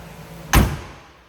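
A single solid thud of a 1970 Chevrolet Caprice Kingswood station wagon's door shutting, close by, with a brief ringing tail fading into quiet background hum.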